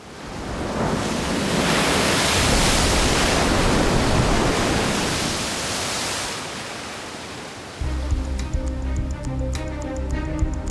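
Waves surge through the Deltares Delta Flume, a 300-metre-long, 9-metre-high full-scale wave basin, as a broad roaring wash that swells and fades, followed near the end by a steady ticking mechanical rhythm.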